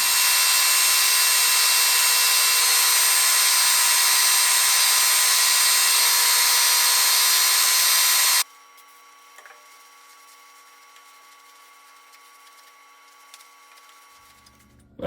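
A Precision Matthews lathe cleans rust and burrs off a shaft, running with a loud, steady whir for about eight seconds before cutting off abruptly into near quiet with a few faint knocks.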